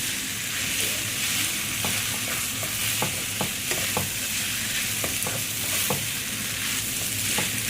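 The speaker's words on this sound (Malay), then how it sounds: "Okay, kita kacau. Dia ada sebati spaghetti dengan yang kita rempah yang kita goreng tadi." Spaghetti stirred in a pan with fried spice paste, a steady loud sizzle under repeated scraping and clacking strokes of a utensil, close up with no talking.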